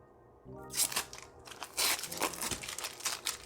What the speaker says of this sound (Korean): 위에 비닐 비닐부터 떼어줄게요.